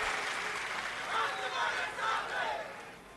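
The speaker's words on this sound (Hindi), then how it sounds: "एक बार ताली बजा के पंकजा ताई का स्वागत।" A rally crowd applauds and cheers to welcome Pankaja Tai, sustained clapping with rising swells of shouting from a large audience, filling the space without a clear single voice.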